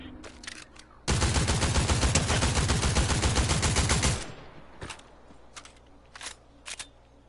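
A sustained burst of rapid automatic fire in Fortnite on PS4 runs about three seconds, loud and dense, followed by a few scattered single shots.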